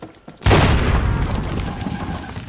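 Grenade blast in the Warzone game: a few soft knocks, then one loud, close explosion with a heavy boom that slowly fades over two seconds.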